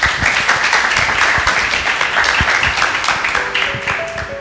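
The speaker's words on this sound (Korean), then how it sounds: "박수로 부탁드릴게요" A book event audience breaks into loud, dense applause, with many hands clapping together close by, sustained and slowly tapering while a soft tonal sound enters near the end.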